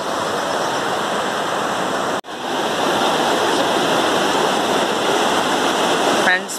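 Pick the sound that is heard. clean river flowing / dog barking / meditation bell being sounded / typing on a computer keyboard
clean river flowing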